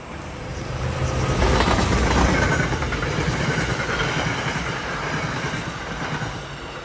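A train runs on its rails, a loud steady rumble with rhythmic clattering of wheels over the track, swelling early and then holding close, with no voices.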